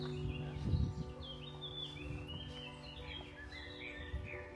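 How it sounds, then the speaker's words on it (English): Several birds chirp and trill in the open, with thin high calls scattered across the clip over low background rumble. "The sound of the birds."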